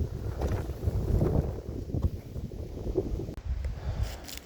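Wind blowing outdoors on a cool, breezy day, a steady low rumble of gusts buffeting the microphone throughout, with no voices.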